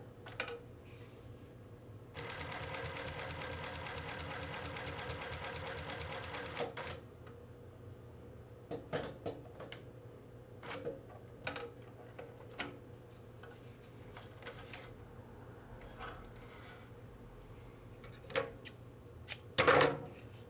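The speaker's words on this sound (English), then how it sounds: "Yeah, that handled that without a problem." A post-bed sewing machine stitches through four layers of 1000D Cordura nylon in a fast, even burst of ticking for about four seconds, followed by quieter scattered clicks and handling knocks.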